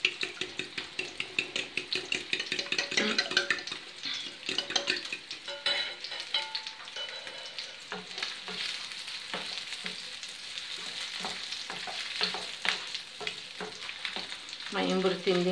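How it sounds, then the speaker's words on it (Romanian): Sausage sizzling in a frying pan with a steady crackling hiss, interrupted by frequent scraping and clinking as it is stirred with a utensil, close and fairly loud, with no talk. "Între timp ce cârnăciorul se prăjește puțin"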